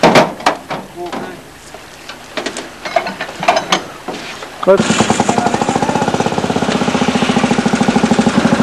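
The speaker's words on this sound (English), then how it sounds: "He'll come up now and he's priming the pump." A fire brigade tanker's pump engine is primed beside a river during a training drill, starting with irregular knocks and clatter, then settling into a loud, rapid mechanical chugging. Voices can be heard in the background.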